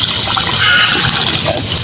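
Water pours steadily into a cooking pot, a loud continuous splashing rush lasting the whole moment, close by.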